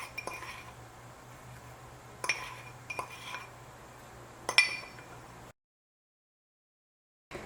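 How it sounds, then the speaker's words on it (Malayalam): A spoon clinks against a bowl while cornflour batter with salt is mixed for chicken kebabs: a few bright, separate taps over a quiet background, then silence at the end. "ചിക്കന് ആവശ്യത്തിനുള്ള ഉപ്പ് ഈ ബാറ്ററിൽ മിക്സ് ചെയ്യണം."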